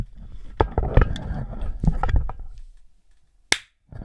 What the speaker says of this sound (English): Do you want to do the clap sync now?